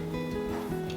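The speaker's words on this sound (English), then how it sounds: "that's my dryer. It is like making some weird noise" A clothes dryer in a home kitchen runs with an odd, steady mechanical hum and faint rattling, a low drone with tonal whine sitting constantly in the background, alone without talk.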